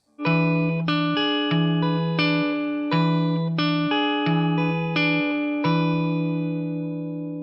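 A guitar plays a slow chord pattern, each chord struck cleanly and left ringing before the next, about ten strums in a steady rhythm.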